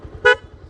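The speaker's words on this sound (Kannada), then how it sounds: "ಹಾರನ್ ಸಿಕ್ಕಾಪಟ್ಟೆ ಲೋಡ್ ಆಗಿದೆ. ಇದು ಆಫ್ಟರ್ ಮಾರ್ಕೆಟು, ಬಟ್ ಚೆನ್ನಾಗಿದೆ." One short, loud blast of an aftermarket horn fitted to a Bajaj Avenger motorcycle, a bright, buzzy toot heard up close over a low idling rumble.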